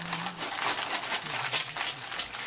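Wrapping paper crinkling and rustling as Christmas presents are wrapped, a steady run of soft, close crackles with no talking.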